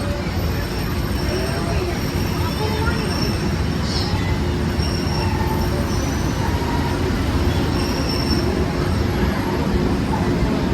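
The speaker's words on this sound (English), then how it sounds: "welcome aboard the Disneyland monorail" The Disneyland monorail train runs along its track with a steady rumbling drone and a faint high whine, heard from inside the car, continuous and even throughout.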